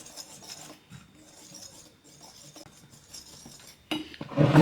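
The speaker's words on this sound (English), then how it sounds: "So we start by combining our flour and our spices." Flour and spices for spiced Danish Christmas cookies being combined in a bowl, heard as soft scraping and light clinks of utensil against the bowl, ending in a louder burst of clatter.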